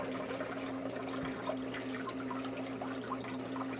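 Water rushes steadily through a sifter while copper is panned, a constant wash of trickling and splashing with a low hum underneath.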